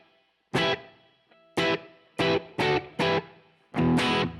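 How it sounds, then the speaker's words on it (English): Six electric guitar chords or strums played through an Empress Reverb pedal, each ringing out with a short, roomy wash of reverb, played alone with brief gaps, the last one held longer. "So I'm using the Empress Reverb right now."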